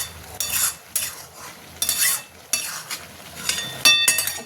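A spatula scrapes and stirs through a pan of chachchari cooking beside latia fish, each stroke a loud rasping scrape in an uneven rhythm over a soft frying sizzle, with no talking.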